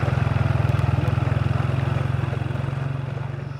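A motorcycle engine idles steadily with a low, even throbbing pulse, close and loud, holding constant throughout with no talk.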